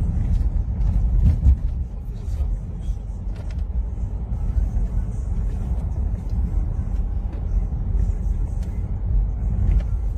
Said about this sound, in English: More taxis moving.